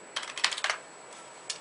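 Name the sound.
typing on a computer keyboard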